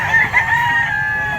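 A rooster for sale in Lipa, Batangas, Philippines, crows loudly and close by, a single drawn-out cock-a-doodle-doo with a rising, wavering call over faint background noise.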